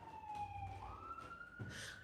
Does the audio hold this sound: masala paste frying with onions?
no